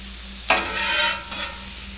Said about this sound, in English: I'm going to throw the buns on. Let them kind of toast up just a little bit, not too much.